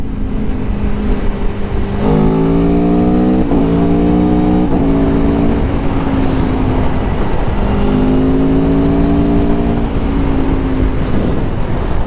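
A 2021 Aprilia Tuono 1100 Factory motorcycle engine revs hard several times, pitch climbing and dropping in loud bursts over a rumbling idle, close and powerful.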